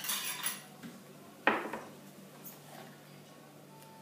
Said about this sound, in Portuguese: Agora você mistura um pouco, depois você vai misturar outra vez